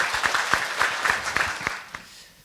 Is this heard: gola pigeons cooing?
no